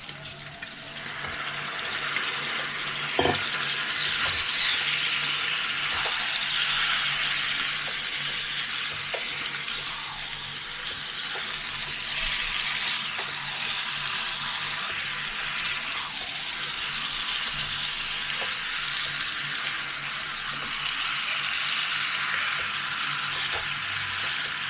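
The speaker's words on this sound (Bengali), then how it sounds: "পেঁয়াজটা ভাজা হয়ে গেল, এবার মাংসটা দিয়ে দিচ্ছি।" Chicken meat is added to fried onions for an achari chicken made with mango pickle, setting off a loud, continuous sizzle in the pan with occasional clinks and stirring.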